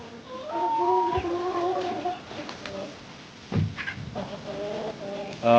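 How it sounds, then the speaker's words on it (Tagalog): Chicks among Rhode Island Red and Hubbard chickens, with soft clucking and peeping calls at close range, a few scuffling sounds and someone speaking over them. "Ito yung mga sisiw ko mga kasikin. Halo to dito, may Rhode Island Red at saka may Hubbard."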